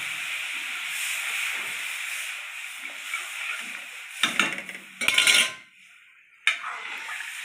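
Hot liquid hissing and steaming in a pot of mango dal, a sustained sizzle broken by a few louder splashy bursts of pouring and a sharp clink near the end.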